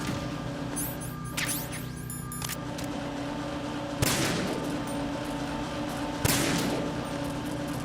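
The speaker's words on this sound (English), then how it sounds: "the conveyor belt noise masks the gunshot" In the Metal Gear Solid 2 video game, a continuous mechanical conveyor belt drone runs throughout, broken by sharp gunshots: two sudden loud bursts stand out clearly, with a few earlier clicks and clatter.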